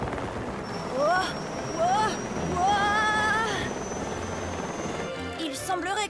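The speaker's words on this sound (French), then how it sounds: "Mason James, l'explorateur intrépide, essaie de dompter tant bien que mal un hélicoptère." A helicopter in an animated Matchbox cartoon, flown shakily by an intrepid explorer, gives off a steady high whine with repeated rising, warbling whistle sweeps and busy effects layered over it.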